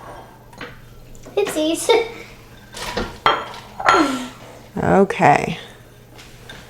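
Bowls and pots clatter while being handled in a home kitchen during a chicken stew canning session, with several short clinks and knocks mixed among conversational speech.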